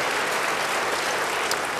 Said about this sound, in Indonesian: Siapa yang mau beri tepuk tangan yang baik bagi dia?